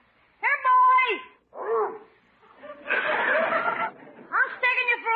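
A big dog barks a few times in short bursts, loud and close, amid voices and laughter in an old radio comedy scene.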